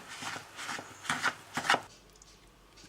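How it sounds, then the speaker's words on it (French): Cold butter pieces being mixed by hand into flour in a bowl for a quick brioche dough, soft rubbing and crumbling scrapes in a few short bursts, close and quiet, fading toward the end. "Voilà le beurre qui est mis sur la farine. Je veux mélanger jusqu'à liaison."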